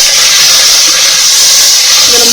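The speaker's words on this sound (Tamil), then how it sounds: "ஒரு கை கொத்தமல்லி போட்டிருக்கேன், ஒரு கை புதினா போட்டிருக்கேன். இது நல்லா இந்த பச்சை வாடை போகிற வரையிலும் நல்லா வதக்குங்க." Coriander and mint leaves sautéing on a high flame for mutton biryani give a loud, steady hiss, a constant bright sizzle filling the short stretch without pause.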